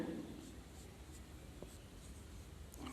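Faint scratching of a sentence being written by hand, a soft continuous scrape with small strokes and pauses, heard alone and fairly quiet throughout.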